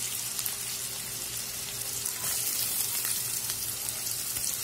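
Sliced onion fries in a pan in a continuous faint sizzle, a soft hiss that holds steady throughout with a few light stirring sounds and no voices.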